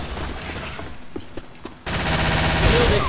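Rapid gunfire from the zombie shooter Left 4 Dead 2, loud and dense bursts with a brief quieter lull in the middle before the firing resumes, heavier and continuous through the end.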